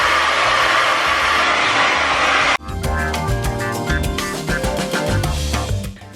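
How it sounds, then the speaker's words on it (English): A regular handheld blow dryer roars loud and steady at close range while drying hair, its broadband whoosh cutting off abruptly partway through before a different, layered sound takes over. "Next thing you're gonna do is take a regular blow dryer."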